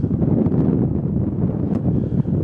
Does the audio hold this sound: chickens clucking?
no